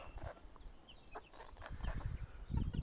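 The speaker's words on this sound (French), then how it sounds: "Et puis monsieur le coq là-bas, qui est bien stylé aussi" A rooster and hens from a small backyard flock cluck in short, scattered bursts, soft and fairly close, with no talking.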